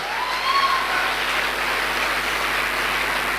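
Sustained, dense applause from a large audience honoring a leader at a Safe Shop business gathering, steady and even like heavy rain, with no talk over it.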